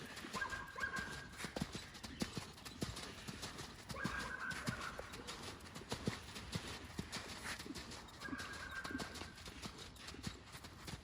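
Finn, a show jumping horse, trotting in a training session, hoofbeats clip-clopping in a steady two-beat rhythm at moderate distance, with faint birds and occasional background noise around them.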